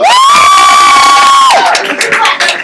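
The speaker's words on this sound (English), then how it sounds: "she clapped for them" A long, high sustained whoop from an audience, then breaking into loud, close crowd cheering and shouting.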